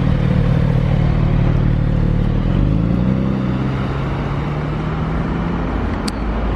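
A Porsche GT4 sports car passing on a street in Monaco, its engine a loud, close, steady rumble with a falling pitch as it goes by and the roar fading toward the end.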